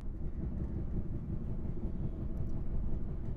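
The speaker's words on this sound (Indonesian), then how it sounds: "Nampaknya bogi di bawah saya atau roda kereta yang ada di bawah kursi saya itu tuh benjol" Low, rumbling rattle of a moving KA Gajahwong Premium train carriage with a steady rhythmic thumping from a dented wheel below, continuous and close.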